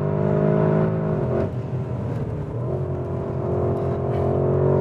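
The 640 PS Porsche Cayenne Turbo GT's engine roars loudly as it accelerates hard, a strong, steady drone whose pitch climbs and briefly dips twice, as if shifting gears.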